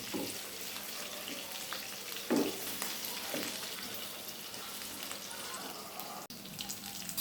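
Chicken pieces frying in hot oil, a steady close hiss and crackle of sizzling that runs unbroken, with a few brief clatters of utensils against the pan.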